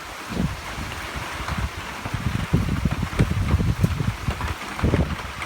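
Wind-driven heavy rain in a Southern California winter storm, a continuous rushing hiss with low gusty buffeting that swells and fades throughout.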